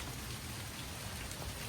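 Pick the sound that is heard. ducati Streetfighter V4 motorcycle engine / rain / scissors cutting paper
rain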